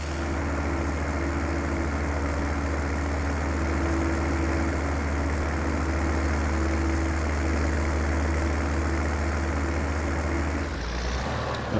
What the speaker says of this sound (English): So we'll use the tractor to take the trailer back.